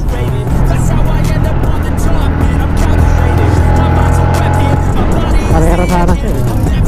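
A Yamaha Sniper 155 motorcycle on a road, fitted with new tires, its engine droning loud and steady throughout with wind and road rush and a brief rise in pitch near the end.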